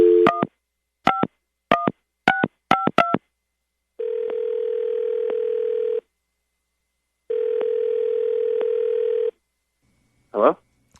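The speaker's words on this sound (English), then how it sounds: "I'm going to dial him right now." A telephone call is dialed: a rapid series of touch-tone keypad beeps is followed by two long, steady ringing tones separated by silence, then a brief sound at the end.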